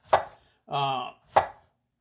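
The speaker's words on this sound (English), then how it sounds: "So you just slice them up just like that" Knife slicing through firm green plantains on a board for patacones, with two sharp close cuts framing a brief tonal squeak or scrape in between, no talking.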